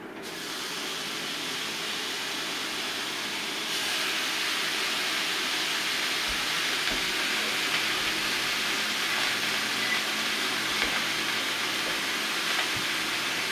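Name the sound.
steak searing in a hot cast iron pan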